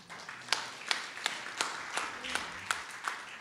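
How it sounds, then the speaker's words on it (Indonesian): A church congregation claps in a steady rhythm, roughly three crisp claps per second, heard fairly quietly over a soft room background. "Nah ini yang tepuk tangan yang suka memberi ini."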